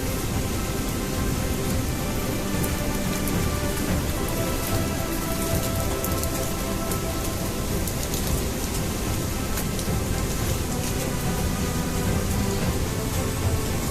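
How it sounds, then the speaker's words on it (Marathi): Heavy, steady monsoon rain pours down continuously near Randha waterfall, a dense unbroken roar of drops hitting surfaces close by, with no voices. "एवढा पाऊस चालू आहे वरती अजून"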